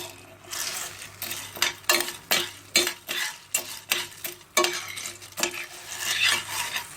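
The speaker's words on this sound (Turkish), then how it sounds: "Ve bir kaşık ile karıştırıyoruz sürekli." A spoon stirs popcorn kernels in oil inside a pot, scraping in a steady rhythm of repeated strokes over a soft frying sizzle, close and clear with no talk.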